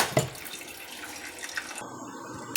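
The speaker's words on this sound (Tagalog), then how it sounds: "Lagay tayo ng tubig." Rice washing water is poured into a cooking pot for a Korean fishcake soup, giving a steady splashing pour with a few small drips, close and moderately quiet.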